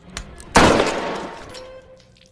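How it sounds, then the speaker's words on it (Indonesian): A single loud, sharp pistol gunshot in the film Last Shift cracks out and then fades in a lingering echo. "wanita itu pun menembakkan pistol ke kepalanya sendiri"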